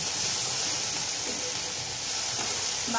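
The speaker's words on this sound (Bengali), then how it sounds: "ভেন্ডিটা ভেজে নিচ্ছি।" Okra frying in a pan with a little onion, a steady soft sizzle throughout, fairly close, with no talking.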